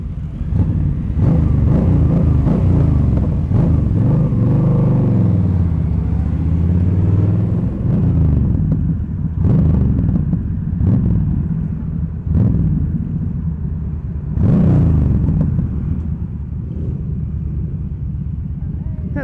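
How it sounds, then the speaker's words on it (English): A large group of about forty motorcycles pulls away from Wakefield on a ride out, a continuous loud engine rumble that swells and surges, with voices talking over it. "We have 40 of us, 40 bikes, just leaving Wakefield now"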